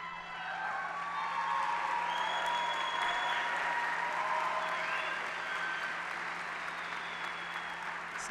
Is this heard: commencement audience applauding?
yes